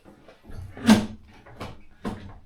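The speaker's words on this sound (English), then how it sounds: "This door is actually broken." A broken, awkward sliding bathroom door is worked back and forth, producing a sequence of three or four knocking, scraping clunks spaced irregularly across a couple of seconds, fairly close.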